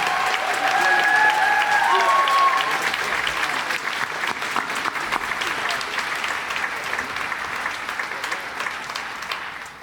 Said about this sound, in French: Je crois qu'ils méritent une bonne main d'applaudissements.